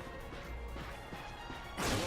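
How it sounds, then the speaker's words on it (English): Ratchet breaks crates in the Ratchet and Clank game on PS4, with repeated crashing whacks over a busy game soundscape and a louder burst at the end. "Look at him smashing crates."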